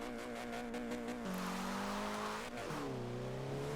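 A manual Golf R in Forza Horizon 4 revving hard in second gear as its tires spin, a steady loud engine drone that drops pitch at an upshift, with squealing tire noise.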